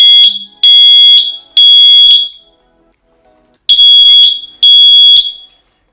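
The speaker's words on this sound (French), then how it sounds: "On a reçu l'alarme et ça sonne fort." A Tuya Zigbee smoke detector sounds its alarm indoors: loud, piercing high-pitched beeps, three in a row, a short silence, then two more, with no one talking.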